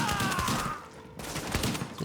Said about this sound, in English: You didn't hear all that gunfire behind it?